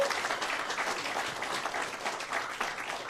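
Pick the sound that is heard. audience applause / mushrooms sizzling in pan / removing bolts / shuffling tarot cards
audience applause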